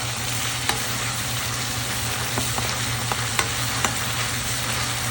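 Ginger and garlic fry in spice masala being stirred for fish dopiaza, a loud, unbroken crackling sizzle close up with a low steady hum and a few sharp spatula taps.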